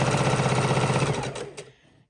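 Sewing machine chain stitching quilt blocks, a fast, even mechanical rattle running steadily for over a second before slowing and stopping, close and alone.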